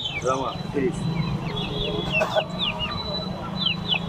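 Chickens cluck and chirp at a fancy poultry market selling Silkie and Brahma hens, several birds calling close by over a busy background of voices and market chatter.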